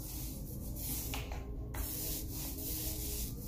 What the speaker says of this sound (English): We're also gonna add like dustings of white spray paint.